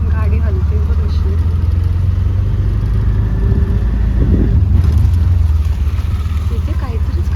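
Car rolling over a bumpy, potholed village road in busy traffic, with a steady loud engine and cabin rumble that jolts and thumps over the holes, and people talking inside.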